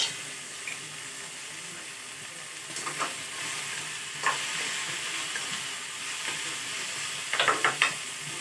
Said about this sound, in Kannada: ಹಿಂಗೆ ಗ್ಯಾಸ್ ಹಚ್ಕೊಂಡು ಹುರ್ಕೋಣ. ಇದಕ್ಕೀಗ ಒಂದು ಸ್ವಲ್ಪ ಎಣ್ಣೆ ಹಾಕಿಬಿಡ್ಬೇಕು.